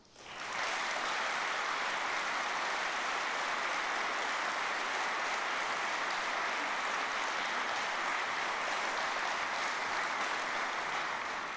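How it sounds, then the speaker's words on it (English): Sustained applause from a conference audience at an opening plenary session, a steady, even wash of clapping that starts abruptly and holds at a constant level for over ten seconds, with no talk over it. "let's give them a round of applause"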